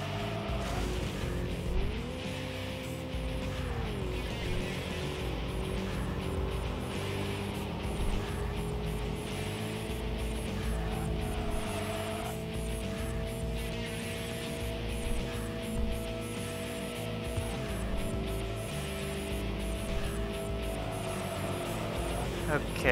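A video game car engine revs and holds at a steady high pitch, shifting in steps and capping near 6,500 RPM. A faint tire-squeal texture runs along with it, and a voice talks over the engine throughout.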